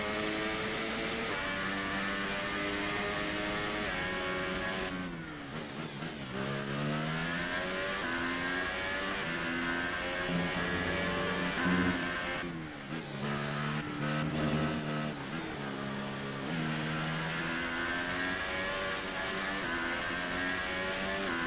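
A McLaren Formula 1 car engine in the racing video game F1 2018 at the Austrian circuit, a loud, continuous high-pitched whine rising and falling through repeated upshifts and downshifts with no talk.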